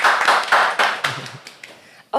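Short studio audience applause bursts out loudly and fades within about a second, followed by scattered claps and a voice speaking.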